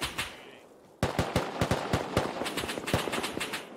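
Rapid AK rifle fire in the survival game Rust, crisp sharp shots in quick bursts after a quieter opening, continuing in an uneven rhythm at close range.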